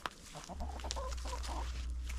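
A molting hen clucks a few times close by, short soft calls over a low steady hum.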